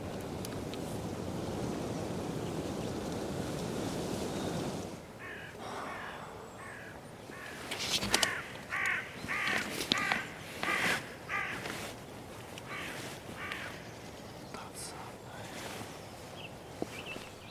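Crows caw repeatedly in short, harsh bursts, moderately near, after a stretch of steady wind-like rushing noise; no voices are heard.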